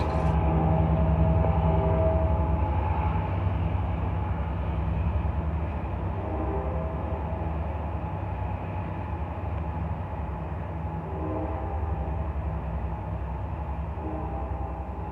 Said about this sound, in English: this is Amtrak 7-Eleven, the Gold Runner, heading back to the Oakland yard